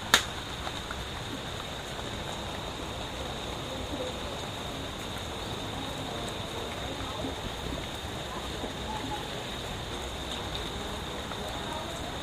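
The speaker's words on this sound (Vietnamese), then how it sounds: "Trời mưa nè" Steady outdoor rain hisses evenly and continuously for about twelve seconds, a dense fine patter at moderate level after one sharp tap at the start.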